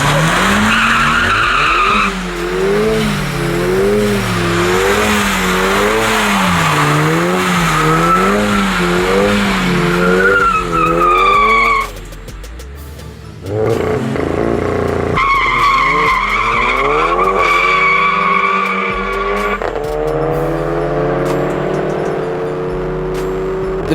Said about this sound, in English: Next up is a grudge race between Callan in the Strada Performance Polo GTI and the Sinister Performance Fiesta